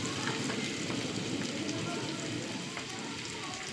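Onions frying in a pan until browned give a steady, hissing crackle that stays even throughout, moderately quiet and rain-like in texture, with no speech.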